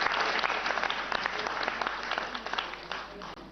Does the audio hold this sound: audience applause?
yes